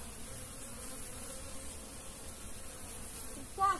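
Black bees buzz in a dense, steady drone as they collect water at a well in the woods, with a brief louder sound at the end.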